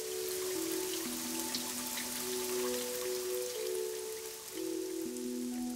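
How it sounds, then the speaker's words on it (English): Rain falls steadily outdoors in Britain, a constant close hiss of drops under sustained low musical tones that shift pitch now and then. "Keep smiling in the rain."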